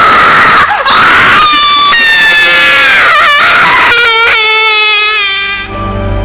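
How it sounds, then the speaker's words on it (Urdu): A piercing, terrifying scream rises and warbles in long, strained cries, loud and close, breaking off briefly between wails before trailing away into quiet. "اچانک میری آنکھ ایک ہلا دینے والی چیخ سے کھل گئی۔"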